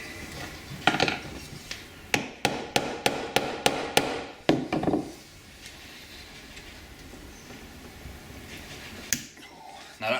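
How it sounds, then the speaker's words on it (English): A screwdriver is tapped into a screw on a motorcycle carburettor: about ten sharp, evenly spaced metallic knocks in a quick row, close and crisp, followed by quieter handling noise. "Now that's why you tap it in, the screwdriver"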